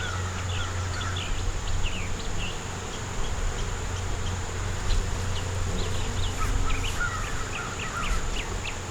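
Honeybees at an active hive bringing in pollen, a steady close insect buzz with many overlapping wingbeats and occasional louder passes of individual bees, with no talking.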